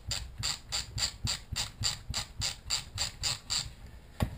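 A Revolimb prosthetic socket dial is turned counterclockwise to lock it, giving a steady run of about nine crisp ratchet clicks at an even pace, close and fairly quiet, with a sharper final click at the end.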